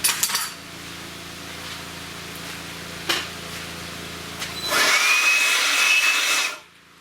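A power drill bores holes during a Dana 44 high steer install on a 4x4 Pontiac Safari wagon. Short bursts give way to a loud, sustained whine of a couple of seconds that cuts off abruptly, with small clinks in between.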